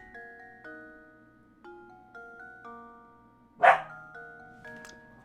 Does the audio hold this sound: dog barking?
yes